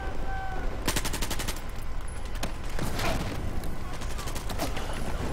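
Rapid bursts of automatic gunfire from the Battlefield 4 video game, loud and continuous, with repeated clattering volleys and no talk.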